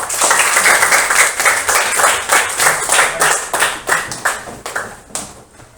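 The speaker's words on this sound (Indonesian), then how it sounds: "Hari ini kita sudah melakukan tepuk PPK" A classroom of students performs the rhythmic PPK clap routine, a run of sharp, closely spaced hand claps in a patterned rhythm, loud and near, with no talking over it.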